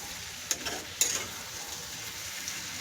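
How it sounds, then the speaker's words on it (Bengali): Cabbage ghonto cooking in a pan, with a steady soft sizzle and two brief sharper clatters of stirring near the start, quiet and without talk. "দেখো রান্না হচ্ছে, বাঁধাকপি ঘন্ট বসিয়ে দিয়েছি"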